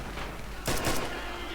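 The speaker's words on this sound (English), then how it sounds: "I thought I'd include this little clip of a bunch of Russians just shooting" Russian soldiers firing rifles in Red Orchestra 2 produce a brief pair of sharp gunshot bursts over a steady background rumble, mid-distance and fairly loud.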